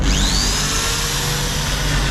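A steady, loud motorized whine of an electric drill used in repairing an antique cuckoo clock runs throughout, spinning continuously, with a rising pitch sweep at the start and no talking.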